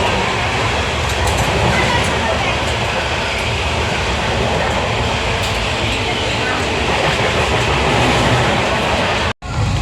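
A running passenger train heard from inside a nearly empty carriage: a loud, continuous rumble and rattle of wheels on track that is close and steady throughout, with a brief dropout near the end.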